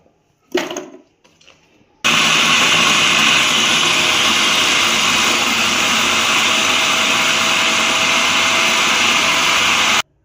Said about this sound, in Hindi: इधर हमने ये वाला चॉपर लिया है। चॉपर में हम गाजर डालेंगे।